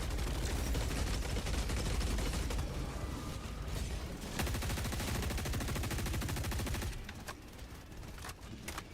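Rapid sustained gunfire from a Gatling Sentry turret in Helldivers 2, a dense loud mechanical stream of shots over chaotic battle noise, easing off near the end.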